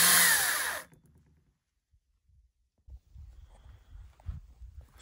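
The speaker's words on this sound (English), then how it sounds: "Makita electric chainsaw is a very handy." A Makita electric chainsaw cuts into a tree, a loud, close whining buzz that lasts under a second and then stops abruptly, followed by quiet low thumps and handling noise.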